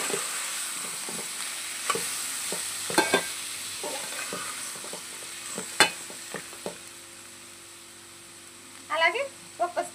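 Cut tomatoes, four or five of them, fry in a pan for a tomato shorba, with scattered scraping stir strokes over a low sizzle and a brief voice near the end.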